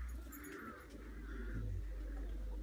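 Faint crow caws sound intermittently over a steady low hum, distant and brief.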